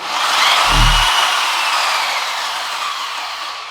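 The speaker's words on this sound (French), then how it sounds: "Donc là, j'allume la girafe à l'aide d'un petit bouton ici." An Einhell TE-DW giraffe drywall sander for ceilings runs steadily, a loud broad whooshing whir with a brief low thump near the start as it spins up, then holds an even drone.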